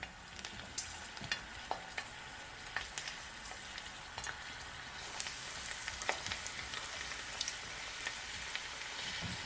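Shrimp fry in a hot pan over medium heat for salt and pepper shrimp, giving a steady, dense sizzle with scattered sharp crackles and pops throughout, no talking.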